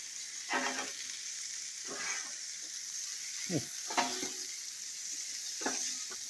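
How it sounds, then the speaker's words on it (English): Bacon frying on a restored, inexpensive Blackstone flat-top griddle, a constant close sizzle broken by a few scraping stirs and spatula touches, with no talking. "Look at that bacon."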